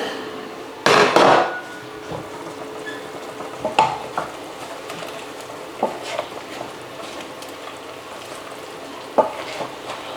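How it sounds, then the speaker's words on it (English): Adobo being stirred in a pan after salt, sugar and pepper go in, with a sharp knock of the utensil at the start, then scattered clinks and scrapes over a low sizzle, close up. "I'll put it all and give it a stir."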